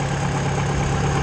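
Mayco LS-40 concrete pump engine idling, heard as a loud, steady, close mechanical drone with a constant low hum and no variation or voices over its brief length.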